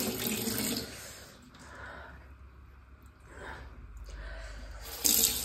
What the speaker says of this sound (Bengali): আগে হাত মুখে একটু জল দিয়ে নিই